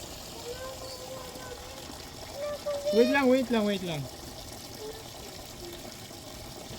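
Water pours steadily over a live carp, a continuous splashing wash that runs throughout, with a brief spoken phrase rising over it midway.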